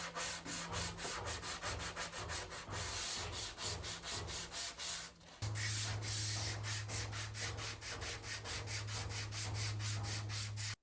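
Steady back-and-forth sanding scrapes across a cherry wood dresser in a fast, even rhythm, close up and continuous, shifting slightly in tone partway through.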